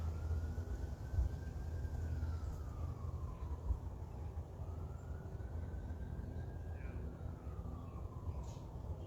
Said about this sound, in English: There you got the siren in the background